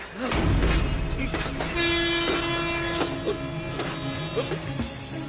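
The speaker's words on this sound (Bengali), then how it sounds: "কিন্তু আপনার ট্রেন তো বেরিয়ে গেল।" Train departing from a station bound for Siliguri, its horn sounding in sustained tonal blasts over the rumble of the railway and station noise.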